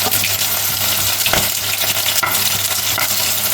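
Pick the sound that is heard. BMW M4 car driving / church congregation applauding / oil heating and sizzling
oil heating and sizzling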